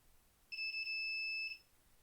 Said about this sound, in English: get a little bit closer before the buzzer goes off